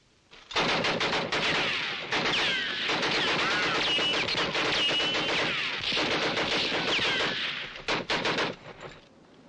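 Gunfire from a new weapon in a Western film: long rapid bursts of repeated shots with brief pauses, loud and sustained, mixed with shrill whining tones.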